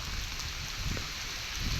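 Heavy rain pours down in a Punjabi village, a dense, even roar of falling water filling the whole stretch with no voices.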